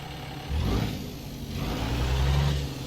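A heavy truck's 600-horsepower Cummins engine in American Truck Simulator rumbles low and revs up twice, a deep steady drone swelling in loudness, with no voices.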